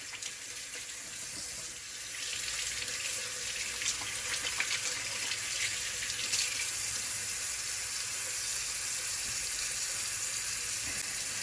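Blackfish being washed under a running kitchen tap in St. Vincent and the Grenadines, a steady close splash of water into a sink that carries on without pause and with no talk.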